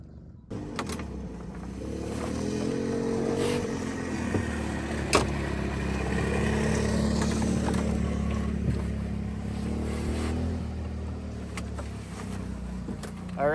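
Off-road machine engine roaring steadily as it drives through mud holes, half the machine sprayed with SC1 protectant; a loud, continuous low drone with splashing texture and no talk.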